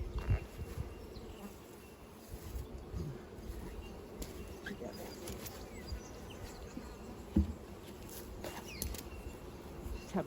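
Near and steady, honey bees buzz in a dense drone around an open hive during a swarm check, with a few soft bumps and knocks rising above the hum.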